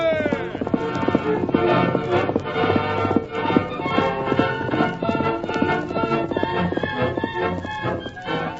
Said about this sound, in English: the masked man's white horse, whose hoofs thundered against the earth